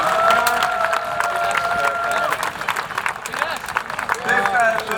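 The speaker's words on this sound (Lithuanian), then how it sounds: "Aplodismentai jam" A crowd claps and cheers for a fighter before a bout, a noisy steady roar of applause with shouts, heard under an amplified announcer's voice that speaks throughout.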